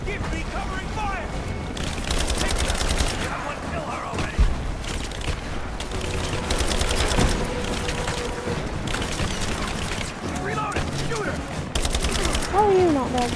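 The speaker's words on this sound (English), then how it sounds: "Give me covering fire!" Sustained covering gunfire in Rise of the Tomb Raider, rapid bursts of automatic fire repeating in clusters over a steady battle din, moderately loud, with voices speaking throughout.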